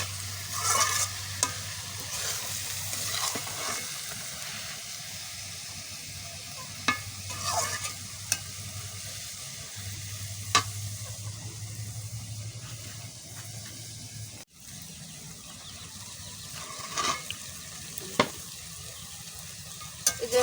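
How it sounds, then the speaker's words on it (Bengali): Ash gourd cooked with dried shrimp fries in oil while being stirred, with a steady low sizzle and repeated scraping stir strokes at moderate volume, no talk. "এই যে চাল কুমড়োটার এই যে তেল বের হয়ে গেছে, এটা ভাজা হয়ে গেছে"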